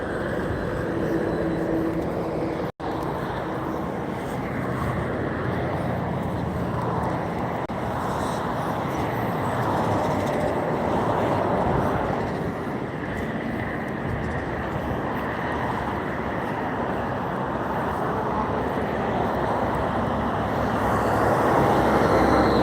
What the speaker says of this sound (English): I can't hear you with the traffic.